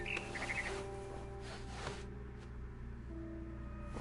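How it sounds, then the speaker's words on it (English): Swallow chirping outside a window in the video game What Remains of Edith Finch, a few short, faint high chirps early on over a quiet humming ambient background. "Then I heard chirping outside my window."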